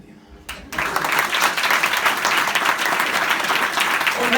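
A church congregation at a Holy Communion service breaks into applause, a sudden burst of dense clapping that swells and holds steady, filling the room after a brief quiet start.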